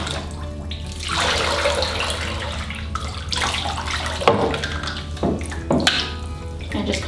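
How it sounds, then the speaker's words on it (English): Running water pours and splashes as a child's hair is wetted through, a close, irregular stream of gushes and drips with brief pauses between pours. "First thing I'm going to do is just wet her hair completely with some water."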